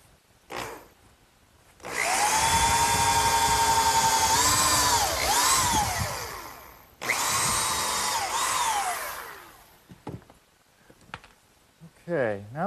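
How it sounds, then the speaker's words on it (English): A power drill pre-drills screw holes in pressure-treated lumber while a sandbox is being built, whining loud and close in two long bursts. The pitch sags under load and then recovers, and brief handling noises and speech fall around the bursts. "pre-drill some holes for the screws"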